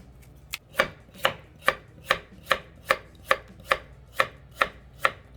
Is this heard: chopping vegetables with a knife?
yes